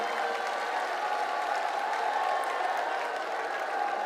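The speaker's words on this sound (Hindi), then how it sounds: "एक बार जोरदार तालियों से हमारे गृह मंत्री जी का अभिनंदन" A large crowd at a Delhi election rally for the 2025 campaign applauds the Home Minister, giving a dense, steady roar of clapping that holds evenly throughout without talk.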